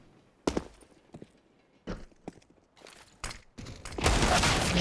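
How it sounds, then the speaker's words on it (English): Desert Eagle pistol shots in Counter-Strike on the Train map, several sharp, separated loud cracks spaced irregularly, followed by a denser burst of gunfire at the end, with quiet gaps between. "Hedge and Nesta getting the deagle shots"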